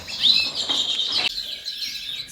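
Redpolls in an indoor bird room, including a brown cobalt cock, a brown hen and young birds, chirping and twittering in quick, bright bursts at close range, with no talk.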